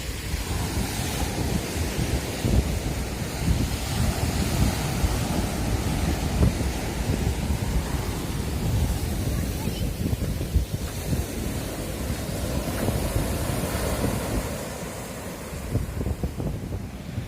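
Steady wash of sea waves breaking on a shore in the morning in Mersin, Turkey, with heavy wind buffeting the microphone throughout.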